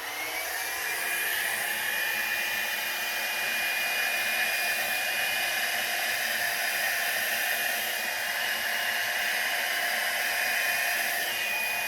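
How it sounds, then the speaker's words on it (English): A small Revlon hair dryer blows steadily across a fresh acrylic paint pour, a constant close airy whoosh with a motor whine that holds unbroken for the whole stretch, with no voices. "I am going to use my little Revlon tool to blow this out"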